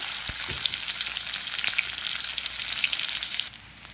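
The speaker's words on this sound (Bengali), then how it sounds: "এবার দিয়ে দেবো একটু পেঁয়াজ, পেঁয়াজটা একটু নেড়ে নেবো" Onion sizzles loudly in hot oil with cumin and chopped garlic for fish-head dal, a dense continuous frying hiss with occasional stirring scrapes, easing off near the end.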